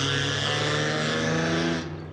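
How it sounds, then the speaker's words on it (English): A loud old 1985 car roars by close, a steady dense engine rush that holds strong and then starts to fade away at the end. "that was like a 1985, like, terrible car. I don't even know why it's that loud"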